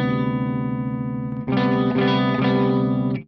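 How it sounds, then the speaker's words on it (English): A Marshall Valvestate 8100 amplifier on its clean channel rings out sustained guitar chords, one chord held and then a second struck and let ring, full and bright with slight shimmer and no talk. "All right, so let's look at this amp on the clean channel."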